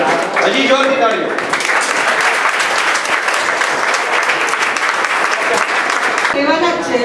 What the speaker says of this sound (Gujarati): હજી જોરથી તાળીઓ.